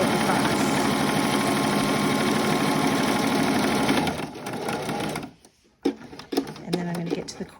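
A sewing machine stitches a homemade protective fabric mask, a loud rapid mechanical whirring for about four seconds, then stops, followed by fabric handling and small clicks.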